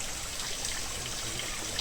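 Steady rushing floodwater flows continuously through a forest, a broad, even hiss with no voices.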